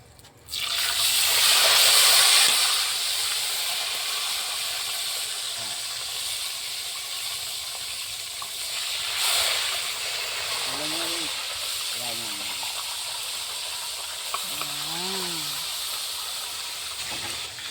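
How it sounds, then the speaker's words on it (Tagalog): Steady loud sizzling hiss of bighead carp and tilapia frying in hot oil, continuing throughout, with a few voices talking quietly in the background. "magsasalang na po kami ng prito"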